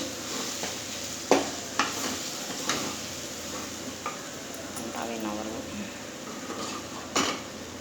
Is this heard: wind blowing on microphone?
no